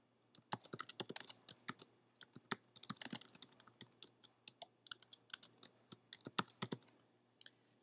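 Rapid, irregular typing on a computer keyboard, with dense bursts of crisp key clicks and brief pauses, close and clear over a faint steady hum; no one speaks.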